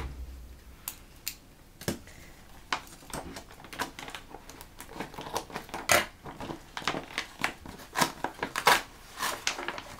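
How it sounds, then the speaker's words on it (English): Scissors snipping through toy packaging from a Bob the Builder magazine with a Bob's noisy saw toy, making a string of close, crisp clicks and cuts at an uneven pace, with small crinkling rustles in between. "might need some scissors actually."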